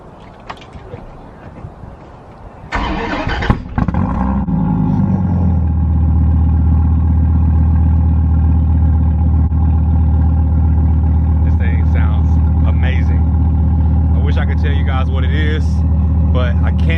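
After a short cranking whir, a car engine catches and settles into a loud, steady idle with a deep, even rumble, and voices talk faintly over it.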